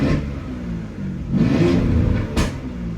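A Porsche Cayenne with a straight-pipe exhaust in regular mode revs up, the engine swelling and easing in a couple of close, moderately loud pulls with a brief sharp blip near the end.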